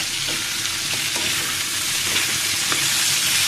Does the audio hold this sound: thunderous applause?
no